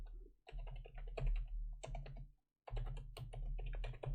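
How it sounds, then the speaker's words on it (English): Steady clacking of keys on a computer keyboard, typing a JavaScript constructor function title in bursts with a short pause midway, close and fairly loud. "So let's also type in here"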